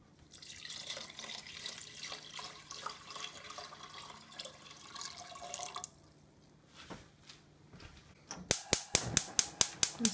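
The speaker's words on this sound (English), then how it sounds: "To that, I'm going to add my water." Water pours steadily into a container of lemon juice for sorbet for several seconds, then a run of sharp rhythmic clicks follows as an appliance is switched on.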